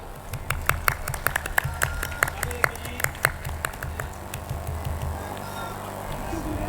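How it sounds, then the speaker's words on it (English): At an annual international school event, scattered claps snap out irregularly over a murmuring hall, sharp and close at first and thinning toward the end, with low background crowd noise throughout. "So everybody, please keep on applauding."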